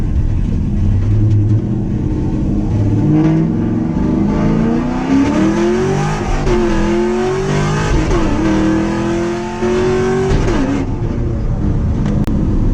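A car engine revs hard and climbs through the gears, loud and close, pitch rising repeatedly as it accelerates.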